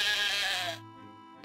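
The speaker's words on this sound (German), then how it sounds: "Bringe das Schaf 5-mal zum Blöken" A sheep in the video game Otherworld gives one short, loud bleat followed by quieter background tones.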